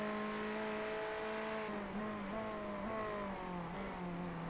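Ferrari GT3 race car engine in the iRacing sim, a steady high-pitched drone that holds a constant tone with small pitch steps, fairly faint and alone.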